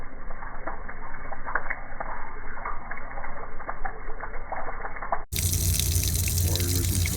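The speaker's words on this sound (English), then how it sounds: "Water goes into a basin, thus, just kind of sits there until you lift the sink back up." Water runs steadily into a small sink basin aboard a train, a continuous close hiss and splash that shifts to a louder, fuller gush near the end, with no one talking.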